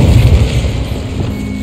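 In Hogwarts Legacy, an Incendio fire spell lets out a short, heavy booming whoosh, loud and close, that fades into a low rumble.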